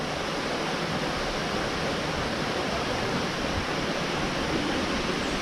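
A waterfall on São Miguel island in the Azores gives off a steady, dense roar of falling water, loud and unbroken throughout, with no voices.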